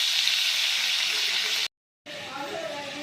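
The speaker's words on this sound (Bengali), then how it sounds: "চর্বিগুলো এই তেলের উপরে দিয়ে দিচ্ছি" Beef fat sizzling loudly in mustard oil in a wok, a steady broadband hiss that cuts out briefly and then resumes with softer crackling.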